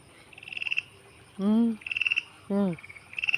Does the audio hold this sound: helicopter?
no